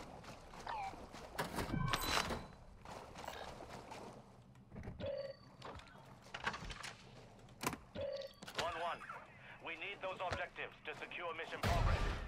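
Video game gunfire in a battle royale match near Sawah Village, bursts of sharp distant shots scattered among other game sounds, with a player voice talking in between.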